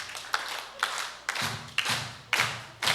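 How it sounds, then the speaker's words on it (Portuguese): Church congregation clapping hands in unison at a youth conference, with sharp, rhythmic claps landing roughly every half second over a low background hum. "Pode começar batendo palmas, irmãos."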